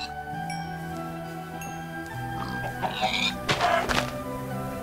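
Chickens on a farm cluck in short, scattered bursts, building to a busier flurry of clucks and a thump or two near the end over a steady background hum, with no one talking.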